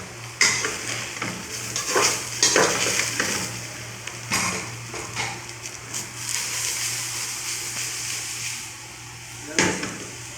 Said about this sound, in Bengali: হালকা গরম তেলের মধ্যে একটু হলুদ দিয়ে ভাজা হবে।